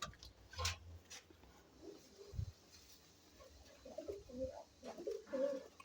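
Kasuri pigeons in a breeding pair coo softly in a loft, low repeated coos rising toward the end with a few faint clicks and rustles, quiet and fairly close.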